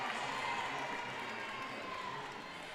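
Crowd at a women's college basketball game between St. John's and Providence cheers in a steady, dense roar that holds for a few seconds and eases slightly at the end, with no distinct voices on top.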